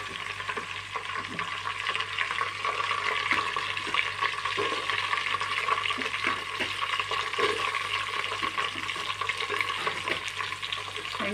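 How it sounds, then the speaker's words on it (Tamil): Chopped onions frying in a pan for mushroom biryani give a dense, steady sizzle with faint stirring scrapes, close up and continuous throughout, no voices. "இந்த நேரத்தில் நம்ம வெட்டி வச்சிருக்க வெங்காயத்தை போடுவோம்."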